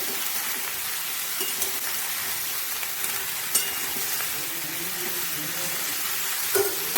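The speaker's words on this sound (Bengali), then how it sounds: "সবজিটা এখন একটু ভাজা ভাজা হবে।" Mixed vegetables fry in a pan for a curry, giving a steady broadband sizzle with faint stirring clicks and scrapes throughout, close and continuous, with no voices.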